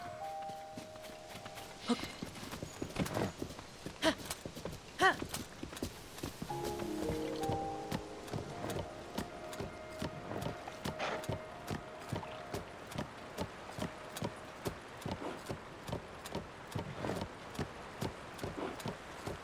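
Horse hooves clop in a steady walking rhythm, close and fairly quiet, with a few brief tonal game sounds early on, in the video game The Legend of Zelda: Tears of the Kingdom.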